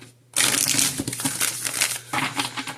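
A dense, crisp riffle of tarot cards being shuffled, a continuous papery rustle lasting a couple of seconds after a brief quiet start.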